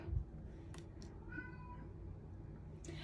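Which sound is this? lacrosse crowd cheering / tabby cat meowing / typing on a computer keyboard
tabby cat meowing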